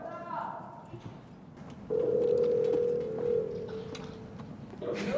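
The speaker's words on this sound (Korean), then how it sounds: "디노 전화해 주세요" Phone call ringing during a Korean variety show, a steady electronic tone held for a couple of seconds amid chatter and background voices.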